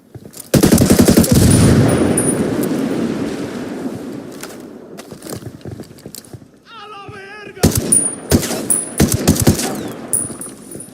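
Automatic gunfire rattles in rapid, loud bursts during a Ghost Recon Wildlands firefight, a sustained volley at first, then scattered shots, a short electronic beeping passage and more close bursts.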